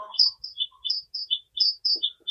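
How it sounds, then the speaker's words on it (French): Bird chirping indoors: a series of short, high tweets repeating in a quick, uneven rhythm, fairly clear and close, with a brief faint voice at the start. "C'est quoi ce bruit? Un oiseau."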